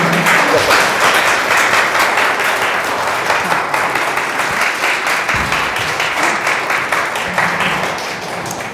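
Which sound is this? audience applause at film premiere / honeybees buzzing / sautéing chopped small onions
audience applause at film premiere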